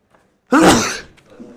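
A single loud, forceful sneeze bursts out close by after a brief quiet.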